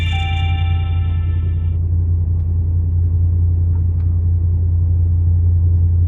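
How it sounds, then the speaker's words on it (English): A pickup truck engine runs at a steady idle, a loud, close, continuous low rumble with a brief brighter tone at the very start and no talking. "so when you start up the truck, I'm going to start up the truck right away."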